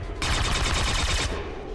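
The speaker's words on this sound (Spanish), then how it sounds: "Esos disparos son tonterías" Burst of gunfire in the turn-based tactics game XCOM 2: War of the Chosen, a dense rapid volley lasting about a second, loud and close, with no talk over it.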